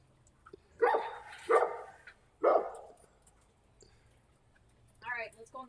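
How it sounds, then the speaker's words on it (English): An excited dog barks in a few sharp bursts, loud and fairly close, with yelping between them and a short higher yip near the end, heard outdoors during an evening gathering while people talk. "the dog is going nuts"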